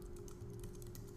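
Code is typed on a computer keyboard, a quiet run of quick, irregular key clicks over faint low background hum.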